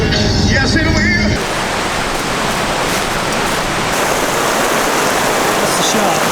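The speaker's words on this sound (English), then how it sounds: "it wasn't until standing under a waterfall later that I actually got soaked" Heavy, steady rushing of a waterfall and river in rain and snow, loud and close, a continuous broadband roar after a brief stretch of talk at the start.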